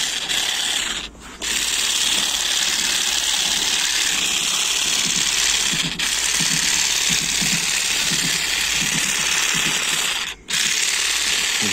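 A Parkside mini hedge trimmer and edge cutter buzzes steadily close by, a constant mechanical whir with faint rubbing pulses as it trims, briefly cutting out and restarting a couple of times.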